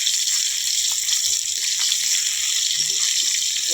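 Shakti fish fry in hot oil during village-style cooking, a loud, steady, even sizzle that holds without a break and with no talking.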